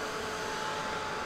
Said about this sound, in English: This is very quiet, this little dryer thing.